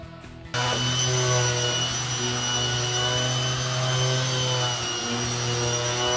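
A power sander runs a 400-grit pass over an epoxy table, kicking on after a brief silence into a loud, steady whine with a strong hum that holds evenly throughout.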